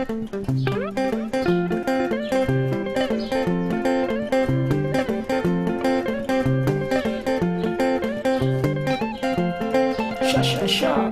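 Guitar playing a western Zambian rhythm derived from marimba patterns: a steady, dense run of plucked, repeating melodic notes over a bass line, continuous and fairly loud throughout with no talking.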